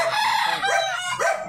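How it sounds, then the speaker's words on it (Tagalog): A rooster crows repeatedly in a subdivision street, three short loud calls in quick succession, close by with no talk over them. "May manok."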